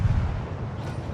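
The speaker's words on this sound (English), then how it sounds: "Now you can see a lot of shells heading his way." Low rumbling boom of naval artillery shells fired at a ship in World of Warships, a dull distant roar that swells and fades over about a second with no talk.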